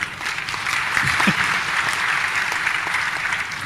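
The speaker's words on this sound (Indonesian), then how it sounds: "Beri tepuk tangan dulu dong" Sustained audience applause at an Indonesian awards talk show, a dense even wash of clapping from a large crowd that stays steady and fairly loud from start to finish, with a brief voice.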